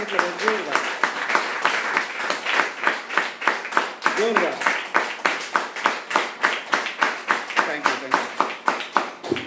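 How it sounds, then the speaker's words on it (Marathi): Audience applause at a Milifestyle plan presentation in Karad, with many hands clapping in a steady, dense stream across the whole stretch, close and fairly loud in a hall. "छोटे उस्ताद सुद्धा जोरदार टाळ्या वाजवत आहेत"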